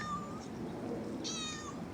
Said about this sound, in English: You're such a pretty cat.